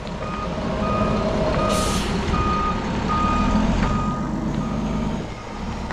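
Loud idling diesel of a concrete mixer truck backing up, with a steady series of evenly spaced reversing beeps and a short air-brake hiss, close by, with no voices.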